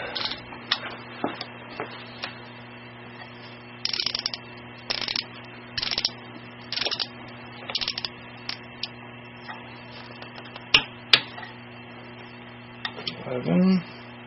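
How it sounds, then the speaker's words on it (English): A ratchet with a 10mm socket tightens studs on a BMW F650GS motorcycle, giving short bursts of rapid clicking repeated about a dozen times over a steady electrical hum, with a few sharper knocks near the end. "Go back to 28 with the 10mm socket."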